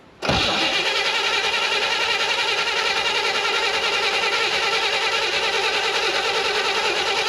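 A 1960 Chevrolet El Camino that had not run since 1998 cranks in a steady, even, unbroken whir close up, with no sign of the engine catching.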